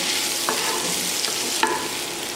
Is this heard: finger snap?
no